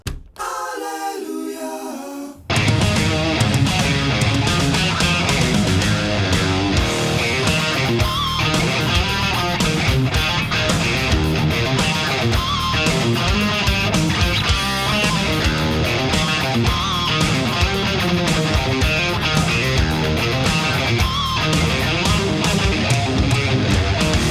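Electric guitar plays the opening riff inside a loud, dense full-band rock mix, running continuously after a short quiet lead-in of about two seconds.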